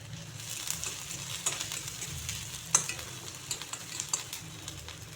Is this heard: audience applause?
no